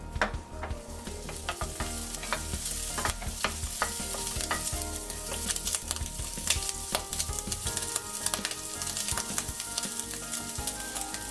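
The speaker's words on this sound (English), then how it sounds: "Stir fry bacon cubes until crispy outside." Bacon cubes stir-fried in butter crackle and spit continuously in a pan, a loud dense sizzle with frequent sharp pops and the clatter of stirring throughout.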